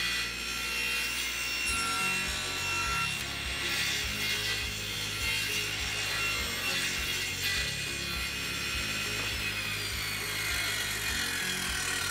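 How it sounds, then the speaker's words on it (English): A table saw blade with a raised blade cuts through wood for a miter jig, giving a continuous rasping, sawing whir with a steady tone that is partly masked by background music. "I'm gonna go ahead and raise the saw blade up so it'll cut through most of that"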